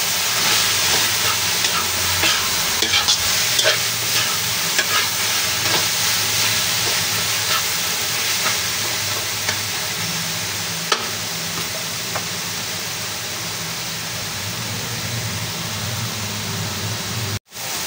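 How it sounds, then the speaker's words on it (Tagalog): Garlic, onion, tomato and alamang shrimp paste sautéing in a large pan for a big batch of Bicol express pork, with a steady loud sizzle and occasional stirring scrapes that cut off abruptly at the end; no talking. "pagkagisa ng ating bawang, sibuyas, kamatis at alamang"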